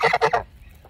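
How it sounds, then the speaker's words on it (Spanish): A few loud, close goose honks in quick succession, then a faint quieter call fading after. "Vine a visitar los gansos."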